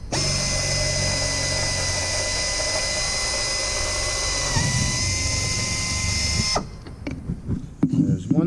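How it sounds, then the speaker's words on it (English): A hand drill with a number 40 bit bores a pilot hole in aircraft sheet metal: a loud, steady whirring hum that cuts off abruptly, followed by brief clicks and handling noises. "I have a number 40 bit in my drill here. We're going to drill the pilot first."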